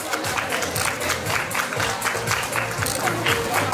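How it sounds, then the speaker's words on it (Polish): At a grooming show award ceremony, a crowd gives steady, moderately loud applause for the prize winners, the clapping continuous throughout. "Wielkie brawa dla zwycięzców."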